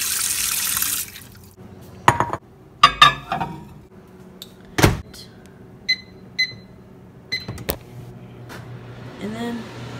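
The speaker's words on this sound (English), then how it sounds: "And fill it with water." Water runs from a tap into a container in bursts, with clattering knocks and splashes between short runs of flow, all fairly close and loud.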